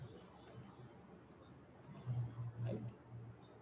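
Faint, scattered clicks of typing on a computer keyboard come in short bursts over a soft background hum.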